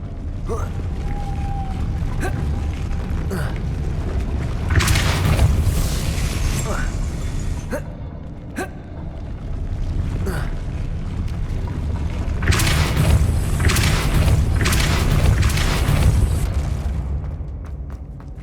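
A Depulso force spell cast in Hogwarts Legacy, heard as repeated bursts of whooshing blasts and creaking mechanical clunks over a steady low rumble of game ambience, with a loud stretch of impacts midway and again near the end.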